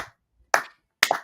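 A pair of sharp hand claps a half-second apart, close and fairly loud, with silence between them during a livestream reaction to a Japanese superhero show finale.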